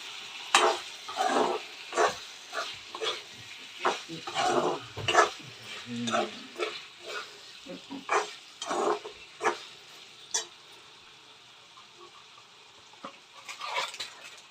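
A spatula scrapes and stirs cauliflower curry with chicken masala in oil, no water, in a pan in repeated short strokes over a soft sizzle, with occasional quiet voices.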